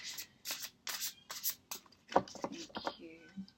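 A deck of shiny, slippery tarot cards is shuffled in quick riffling bursts, several crisp flurries close by, followed by a brief voice.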